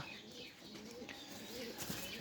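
Soft, low pigeon coos murmur through a steady background hum, with faint chirps from other birds scattered across the moment.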